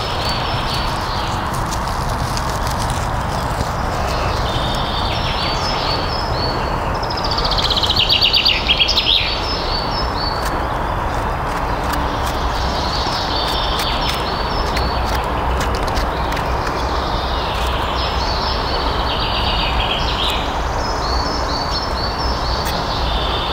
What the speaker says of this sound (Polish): śpiew ptaków.